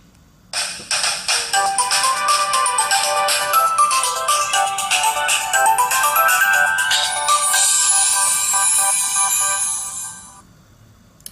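A Zopo C3 smartphone plays its startup tune as it powers up: a bright, tinkling melody of rising and falling chimes that lasts about ten seconds, then fades out. The tune sounds clear and close, with no other sound over it.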